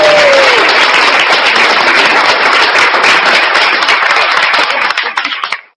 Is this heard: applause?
yes